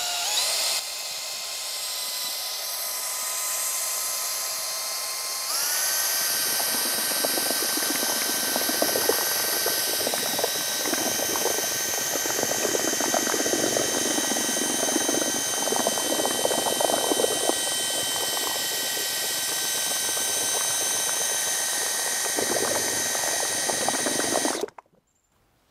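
A handheld power mixer whirs steadily while stirring LevelQuick self-leveling compound for a foam shower pan over plywood subfloor, its motor tone stepping up in pitch partway through, then running continuously and fairly close before cutting off abruptly near the end.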